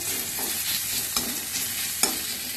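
Ground spice paste with salt, turmeric and a little sugar sizzles in a pan for a Bengali fish curry, a steady close hiss broken by two sharp stirring clinks.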